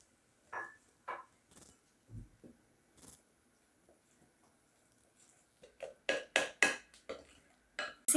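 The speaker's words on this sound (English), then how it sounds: "Mixing this very well" Chickpea flour dhokla batter stirred in a bowl, heard as a series of soft scraping and tapping strokes from a spoon against the bowl, irregular at first, then quicker and louder toward the end, close by with no talk.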